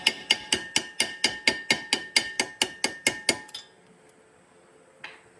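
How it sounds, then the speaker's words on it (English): A rubber mallet taps a brake rotor held in place with a 15 mm socket on a 2011-2014 Ford Mustang: about fourteen quick, evenly spaced, sharp knocks up close, then near silence with one faint knock at the end. "I'm going to tap it with a rubber mallet."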